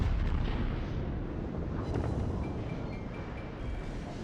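Warship secondary guns firing in World of Warships, a continuous deep rumble of booming gunfire with heavy low thuds rolling on for several seconds at moderate loudness, a faint tone running through the middle.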